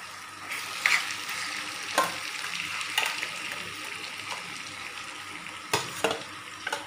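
Marinated chicken with skin on, seasoned with cumin, coriander and turmeric, frying in a pan with a steady close sizzle, broken by a few louder stirring scrapes and spatters at irregular intervals.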